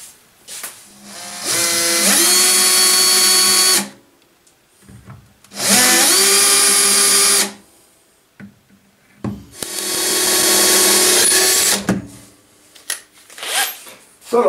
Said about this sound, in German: Ich tue fertig bohren